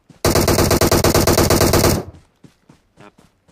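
A rapid automatic burst of video game gunfire fires loud and close for nearly two seconds, then gives way to a few faint, scattered clicks and taps.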